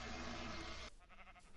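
A sheep bleats in a video game, a short, steady wavering cry that cuts off and gives way to quieter background sound.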